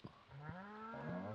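Cows moo in the farming game Stardew Valley, one long drawn-out bellow with a couple of short thumps at the start and between, heard clearly with no talking.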